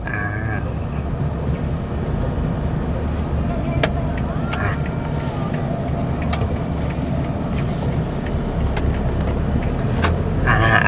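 A 2013 Isuzu D-Max four-door pickup with a 3.0 DDI VGS diesel engine and automatic gearbox on a test drive, its steady engine drone and road rumble filling the cabin, with occasional clicks.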